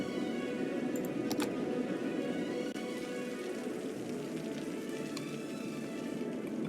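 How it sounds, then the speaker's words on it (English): Steady, dense rain hiss from the Cities: Skylines video game keeps up without a break, with a few faint ticks over the even wash of sound. "I like to see the rain in City Skylines."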